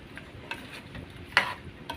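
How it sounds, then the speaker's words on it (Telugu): Chili powder and turmeric being stirred into a country chicken curry in a pan, a soft sizzle under a few distinct scrapes and taps of the spoon against the vessel, close and fairly quiet. "ఒక హాఫ్ టీ స్పూన్ పసుపు ఇవన్నీ వేసి బాగా కలుపుకుంటాం"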